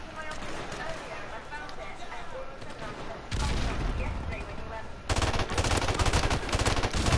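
Rapid AK rifle fire in Call of Duty: Modern Warfare Remastered, sustained automatic bursts that grow louder and denser in the second half, heard alone with no talking.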